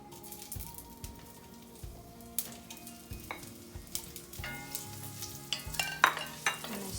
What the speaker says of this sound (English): 30 seconds is when the potatoes go in